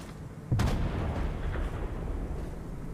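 Tank battle in a video game, one sharp cannon blast followed by a dense rumbling wash of distant gunfire and explosions that continues steadily.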